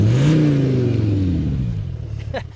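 A diesel Skoda car engine revs up close, then its pitch slides down steadily as the revs fall back, with a few brief clicks near the end.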